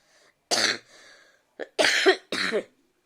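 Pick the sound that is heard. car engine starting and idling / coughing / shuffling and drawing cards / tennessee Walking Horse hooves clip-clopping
coughing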